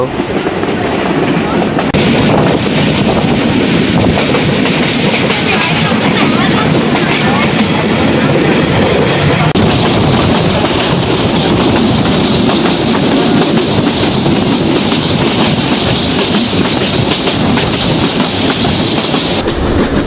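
The Udayan Express from Chattogram to Sylhet runs between two hills beside tea gardens, a loud continuous rumble with rhythmic clickety-clack of wheels on rails, heard from inside a carriage with wind buffeting throughout.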